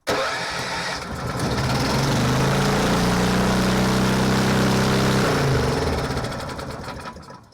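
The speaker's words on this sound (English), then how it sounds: "She does fire up." A swamp buggy (Jiger) engine turns over and fires up, a loud, rough, rattling mid-range engine that catches within a second and runs steadily for several seconds before cutting off, with no talk.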